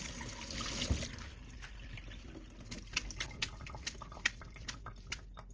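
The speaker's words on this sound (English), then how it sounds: "Rinse the cooked noodles and the running water" Cooked udon noodles rinsed under running tap water, a soft steady trickle with small wet pats and splashes near the end, close and fairly quiet, no talking.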